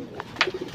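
Pigeons in a loft giving a short, soft throaty coo, close by, with a brief rustle mixed in.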